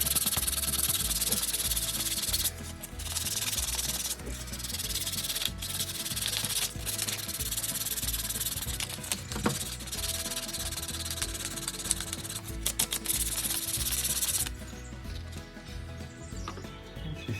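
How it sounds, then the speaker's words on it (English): Paint is sanded by hand on a Tamiya Blitzer Beetle RC car body, making close, repeated rhythmic scratchy rubbing strokes that continue steadily for over a dozen seconds before trailing off. "a little bit finer grit, and then just keep sanding on it"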